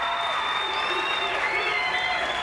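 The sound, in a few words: crowd applauding and cheering at the National Dog Show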